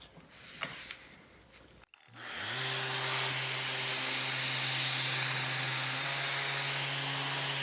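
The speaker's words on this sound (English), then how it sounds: "Now we're going to run the Festool also with the vac." A Festool ETS EC 125/3 EQ Plus random orbital sander with a vacuum dust extractor attached is switched on after a brief clatter, spinning up into a loud, steady whirring hum with a broad airy hiss.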